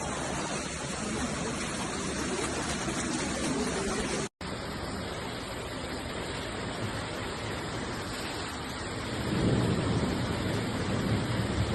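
A thunderstorm with heavy rain pours steadily in Buenos Aires, a dense broadband roar of rainfall with rumbling thunder, briefly cutting out for a moment before resuming and swelling louder near the end.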